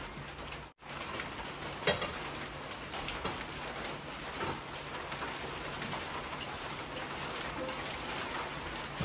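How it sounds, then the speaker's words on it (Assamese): Rain falling outdoors, a steady soft hiss lasting throughout at low level, with pigeons cooing faintly in the background. "আমাৰ ভিডিঅ' কৰাৰ সময়তে বৰষুণ আহি গ'ল"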